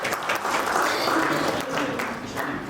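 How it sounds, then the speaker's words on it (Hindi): Audience applause fills a JCI Raipur Royal Capital award and oath function, a steady loud wash of many hands clapping for the full stretch with faint voices underneath. "जोरदार तालियों से स्वागत करें"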